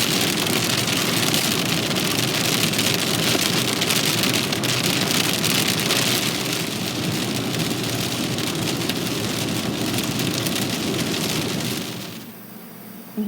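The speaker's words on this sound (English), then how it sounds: "it's been raining all day" Heavy, steady rain pours down on a surface for several seconds as a dense, loud hiss, then drops away sharply near the end.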